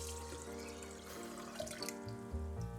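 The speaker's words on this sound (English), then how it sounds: "Wet out 1 liter of fresh water and add it to the blender." Fresh water pours from a tap or jug into a blender, a steady quiet splashing stream with gurgling changes near the end.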